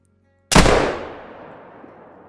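A single loud muzzleloader shot fired at a diamond chamois on a hunt cracks sharply, then rolls away in a long booming echo across open ground that fades over about two seconds.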